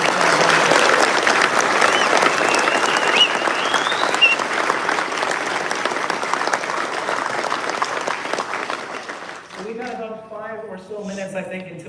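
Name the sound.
audience applause at a show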